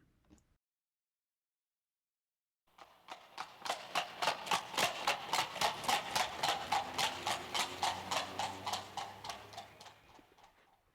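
Horse hooves clip-clop in a steady, even rhythm after a short silence, loud and close, the regular clopping continuing for several seconds before easing off slightly, with no talking.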